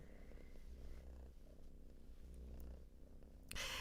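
A female cat purrs close up in a steady, low rumbling drone that continues unbroken throughout, with a brief rustle near the end.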